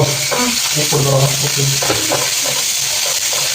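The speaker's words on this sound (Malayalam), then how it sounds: "പാനൊക്കെ ചൂടായിട്ട് കേട്ടാ. അപ്പൊ അതിലേക്ക് നമുക്ക് സബോളയും ഇതൊക്കെ ഇട്ട് നമുക്കൊന്ന് സെറ്റ് ചെയ്തെടുക്കാം" Onions sizzling in a hot pan, a steady loud frying hiss with scraping stirs and faint background hum.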